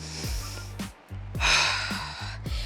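During a full-body workout stretch, a few loud, close breaths come in quick succession, a sharp gasp-like inhale and a forceful exhale, with no talking.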